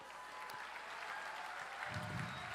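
Audience applause at a comedy show, a steady patter of clapping from a crowd that swells slightly toward the end.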